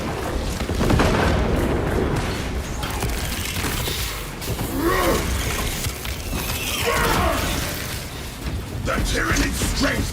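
Heavy booms and explosions in the Warhammer 40K: Space Marine 2 video game thunder over dense mechanical clatter and weapon noise, with game voices speaking amid the chaos.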